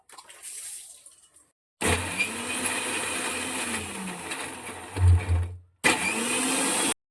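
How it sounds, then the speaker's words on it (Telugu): A kitchen mixer grinder whirs through onions, tomato and spices, with two long bursts of high-pitched motor roar separated by a short pause and a quieter start before them. There is no talking. "ఇదంతా ఇప్పుడు మిక్సీ పట్టేసుకుంటాను."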